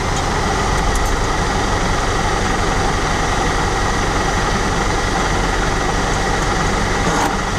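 A snow-clearing vehicle's diesel engine runs in a steady, loud, close drone with a heavy low rumble, unbroken and with no voices over it.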